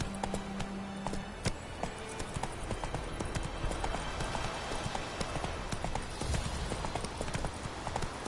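Horse hooves clip-clop in a steady, fairly close rhythm over rough ground, with a faint voice briefly heard alongside.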